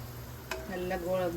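Makkan peda fry on a low flame until brown, a soft continuous sizzle in the oil with a quick scrape or stir about a third of the way in and a faint tonal hum beneath.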